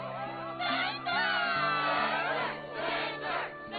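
A crowd in the Kingdom Hearts II video game cheers and shouts in loud surging bursts, many voices overlapping in waves over a steady game music background.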